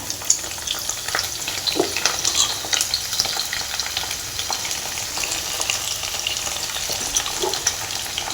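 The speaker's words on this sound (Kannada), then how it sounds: "ಇದನ್ನೂ ಚೆನ್ನಾಗಿ ಫ್ರೈ ಆಗಬೇಕು" Sliced bitter gourd fries in a hot pan with oil for a Karnataka-style palya, sizzling steadily with light scraping stirs and small crackles throughout, no talking.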